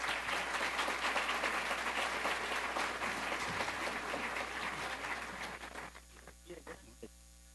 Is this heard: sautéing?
no